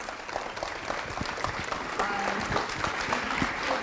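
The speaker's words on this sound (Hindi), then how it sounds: "बहुत सुंदर तालियां" An audience applauds a young speaker at a spiritual gathering, a steady, dense patter of many hands clapping at moderate distance with voices faintly underneath.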